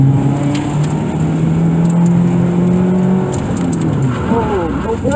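A Subaru Impreza launches at an SCCA autocross start in Joliet, its engine revving hard and loud up through rising gear pitches before fading away, with a voice commentating over it.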